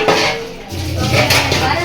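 Metal pots and utensils clatter as a pressure cooker is set down among other cookware in a home kitchen, with irregular clanks close by under background talk.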